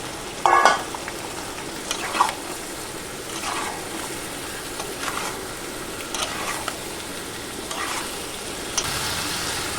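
Fried potato and jackfruit go into a hot pan for a vegetarian curry, with a loud sizzle and steady frying hiss, broken by several scraping stirs of a spoon, close up.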